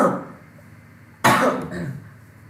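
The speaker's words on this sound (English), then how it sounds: "I'm sorry, I have cough." A single person coughs once, a sharp close burst followed by a short rasping tail, after a moment of quiet room tone.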